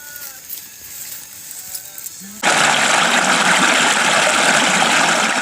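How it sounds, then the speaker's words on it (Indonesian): A river rushes near the Parangloe waterfall in South Sulawesi, its loud, steady broadband flow cutting in abruptly after a quieter opening with faint animal-like calls, then holding constant to the end. "Suara gemericik sungai menyambut pagi hari."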